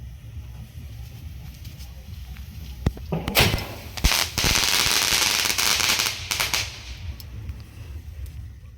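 Handheld firecrackers burst outdoors during New Year celebrations, several sharp cracks followed by a dense crackling, hissing burst lasting a few seconds, moderately close.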